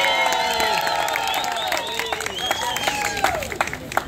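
Applause from an open-air plaza crowd for a milonga tango dancer, steady dense clapping with scattered whistles and chatter mixed in, fairly close and lively throughout.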